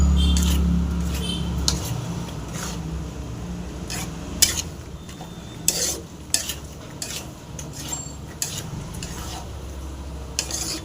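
Gooseberry pickle being stirred and fried in a pan, with repeated scraping and clinking of a utensil against the pan over a low sizzle, close and fairly quiet, with faint talk.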